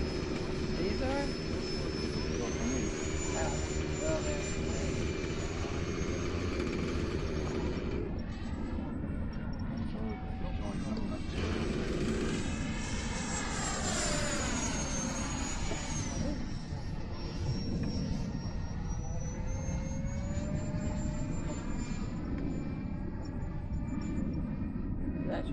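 An E-flite P-39 radio-controlled model airplane flies overhead, its electric motor and propeller whining steadily and rising and falling in pitch as it passes near and far, while people talk over it.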